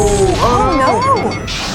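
Phaser fire from Star Trek: The Wrath of Khan, swooping, bending electronic tones with crashing impacts as a starship is hit, loud and close, with voices from the film mixed in.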